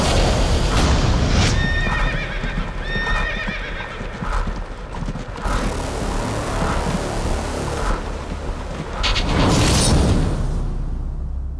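A horse neighs loudly several times while hooves clop steadily on hard ground, with some rumbling noise between the calls.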